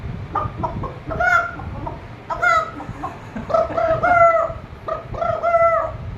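A boy imitates a hen, producing a series of clucking calls in short bursts with rising squawks, fairly close and clear.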